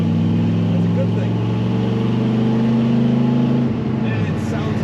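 A 1950 Ford F-1 pickup truck cruises down the road, its engine giving a steady, loud low drone with a slight change in pitch near the end.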